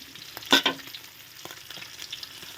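Mackerel crackles and sizzles as it fries in hot oil, a steady close hiss with a couple of louder pops early on, no voices.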